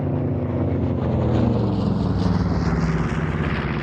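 A P-25 airplane making a fast low first pass at an airshow after diving from 2,500 feet, a loud close propeller engine drone with a pitch that shifts as it sweeps past.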